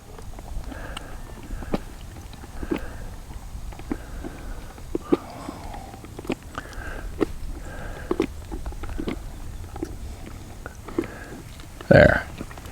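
A horse chews and works its mouth on a new bit, producing soft irregular clicks and mouthing sounds at close range, followed by a short louder snort or burp-like exhale near the end.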